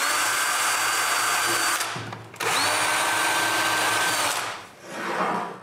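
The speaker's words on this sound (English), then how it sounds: "Next, I drill small holes on each corner." A power drill boring small holes at the corners of a marked-out port in a dust filtering build, loud and close, running in two long steady bursts with a short pause between and a briefer spin-up at the end.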